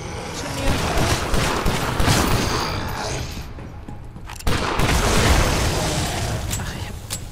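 Dense, loud bursts of gunfire and booming impacts from the action-adventure video game Lara Croft and the Guardian of Light, rolling almost continuously with a sharp hit near the middle and no talk.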